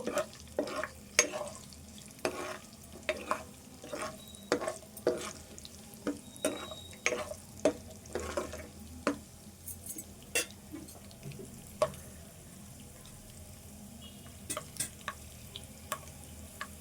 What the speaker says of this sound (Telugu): ఇవి ఎల్లిపాయలు ఇవన్నీ కూడా దూరగా వేపుకోవాలి